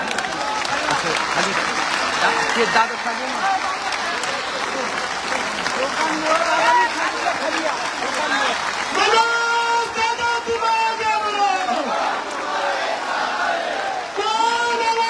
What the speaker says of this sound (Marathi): तीस सेकंद सलग टाळ्या वाजत राहायचं तीस सेकंद जोरदार